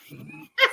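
A pet dog gives a single short, sharp bark just after a brief low whimpering sound, close by in a home during a live diamond painting session.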